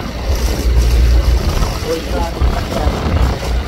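A large cargo boat's engine drones low and steady at sea off Versova, with wind and water wash around it and a voice speaking over the rumble.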